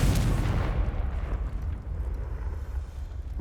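A loud, rumbling explosion from the Confringo fire spell in the video game Hogwarts Legacy, a deep blast that fades into a sustained low roar and crackle with no talk.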